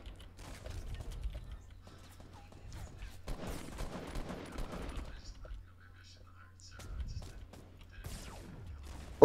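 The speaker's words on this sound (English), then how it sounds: "Someone's shooting at me now." Gunfire in a video game firefight comes in scattered bursts of shots with mechanical clatter over a low steady hum, loudest around the middle and again near the end, with a player's voice speaking quietly at times.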